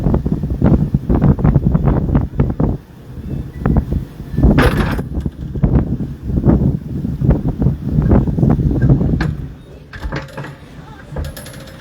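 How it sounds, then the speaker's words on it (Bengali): Rough sea whipped up by a sudden storm with strong wind and rain, heard as loud, continuous buffeting wind roar with surging wave rushes and gusty bursts, close to the microphone throughout. "সমুদ্র কি উত্তাল হয়ে গেছে।"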